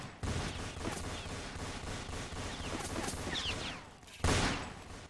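Machine gun fire in a Roblox shooting game, with dense rapid bursts of gunshots running almost continuously, a brief gap, then another loud volley.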